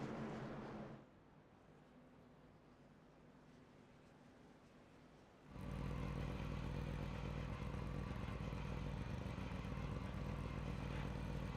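The safety car in a truck series racing video game at Talladega gives a steady mid-pitched engine drone that drops to a quieter idle-like hum, then swells back to a loud, sustained roar for the rest.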